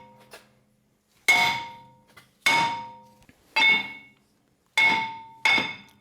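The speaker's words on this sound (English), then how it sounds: "So now I'm going to tap lightly on each side of the rotor." A hammer taps lightly on the sides of a seized brake rotor on a Chevrolet Silverado during wheel hub removal: six sharp metallic strikes in an uneven rhythm, each ringing out briefly, close and clear with nothing else around them.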